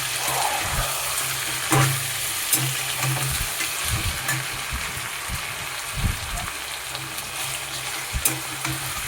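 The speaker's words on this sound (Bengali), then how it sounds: "এখানে আদা বাটা, রসুন বাটা দিয়ে ভালো করে নাড়িয়ে নেব" Ginger and garlic paste frying in a pan as it is stirred, a steady close sizzle with irregular scraping and clattering strokes of the spoon.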